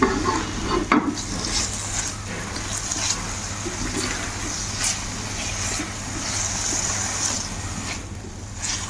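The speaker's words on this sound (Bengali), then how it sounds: "চিকেনটাকে একটু ভাজা ভাজা করে নিব।" Chicken pieces sizzle in a pan with garlic for a homemade chicken corn soup, a steady frying hiss broken by scraping stirs and a few clinks, close and continuous without talk.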